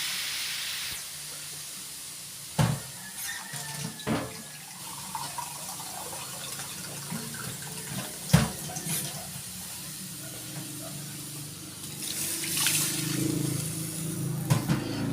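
Broth poured into a cooking pot on the stove, a steady close hiss and splash of liquid with a few sharp knocks and clatters along the way, no talking.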